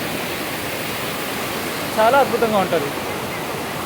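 The Musi river rushes hard past a bridge during flooding, a dense continuous roar of water with a person speaking briefly over it.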